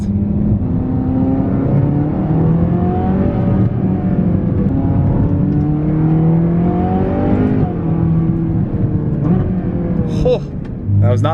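A Ferrari California on its stock exhaust accelerates hard from inside the cabin, engine note climbing through rising sweeps with shifts between them, while people talk over it.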